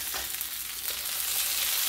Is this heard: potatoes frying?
yes